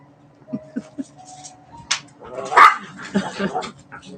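Several dogs bark and yip indoors in short sharp bursts, some higher-pitched whimpers mixed in, close and loud, with people talking over and between them.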